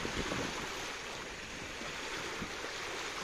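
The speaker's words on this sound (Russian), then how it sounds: "осеннее море в районе маяка на Эгершельде." Autumn sea surf washing ashore at the lighthouse beach on Egersheld in Vladivostok, a steady broad wash of waves close by with light wind noise and no voices.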